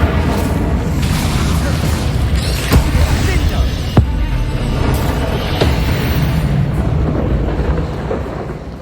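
Incendio fire spell cast in Hogwarts Legacy during a fight with giant spiders, a dense booming burst with sharp cracks near three and four seconds over a continuous rumbling roar, loud and close.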